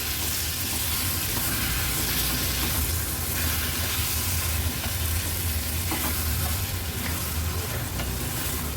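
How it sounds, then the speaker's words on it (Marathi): Prawns and potatoes sauté in masala with kokum over a medium gas flame, giving a loud, continuous sizzle with faint stirring scrapes throughout and no talking. "आता व्यवस्थित ह्या कोलंब्या बटाटा आपण मसाल्यामध्ये परतून घ्यायचं आहे."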